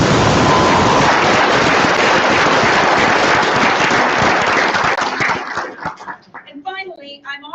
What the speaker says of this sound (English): let's just give them one more big round of applause.